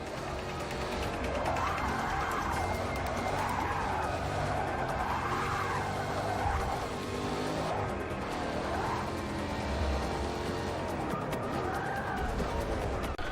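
Car tires skid and squeal through a handbrake turn in the Forza Motorsport racing game, a steady loud screech rising and falling in waves over constant engine drone for the whole stretch.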